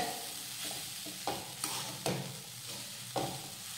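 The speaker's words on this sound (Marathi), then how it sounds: "आता मंद आचेवर सतत हलवत हा ओल्या नारळाचा किस व्यवस्थित परतून घेऊयात।" Grated fresh coconut roasts over low heat with a gentle hiss while a spoon stirs it, producing a few soft scrapes and taps against the pan at an unhurried pace.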